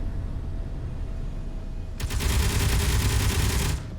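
Video game gunfire bursts in suddenly as a dense, rapid fusillade. It is loud and close, runs for about two seconds after a quiet ambient stretch, then cuts off abruptly.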